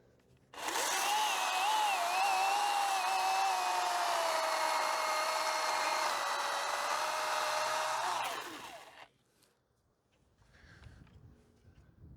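Milwaukee top handle chainsaw running at full revs as it cuts through a hunk of apple wood, a loud steady whine lasting about eight seconds before winding down to quiet.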